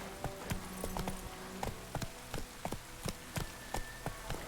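The horse Roach's hooves clip-clopping in the video game Witcher 3, a steady walking rhythm of distinct hoof knocks, fairly faint and with no talk.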